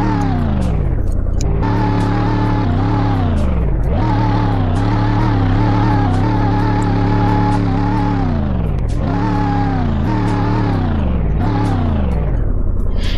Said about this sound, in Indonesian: sepertinya kita akan mencoba untuk mendengarkan raungan suara dari mesin mobil ini teman-teman